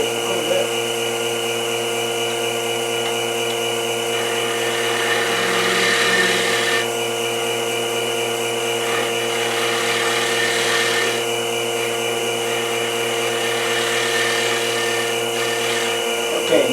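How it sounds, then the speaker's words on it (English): A scraper cleans up a dogwood bowl spinning on a wood lathe, giving a steady whirring, rasping hum that runs continuously and swells now and then as the tool bites. "going to clean that up with this scraper"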